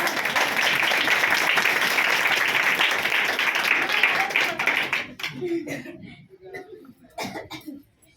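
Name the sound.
group hand clapping in church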